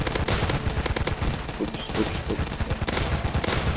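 Rapid bursts of gunfire from a weapon in the Roblox game Zombie Attack crackle continuously and fairly loud, while players talk over the shooting.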